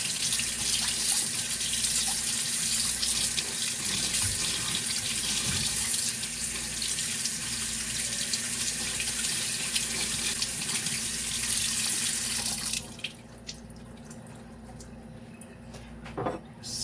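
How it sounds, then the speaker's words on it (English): Tap water runs steadily into a sink for about thirteen seconds, rinsing salt from sea moss, then the flow stops, leaving a quiet room with a few small clinks and handling noises. "Make sure you rinse off some of the salt, most of the salt, because you know it is a bit salty"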